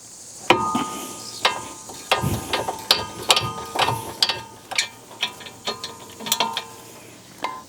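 Ratchet working loose rusty 17mm rear wheel bearing bolts on a 2013-2017 Honda Accord, a rapid run of sharp, close clicking strokes with brief breaks between pulls.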